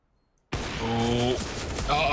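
A Counter-Strike match erupts in gunfire and AWP sniper shots after a sudden start from silence; loud rapid bursts are mixed with a commentator's voice.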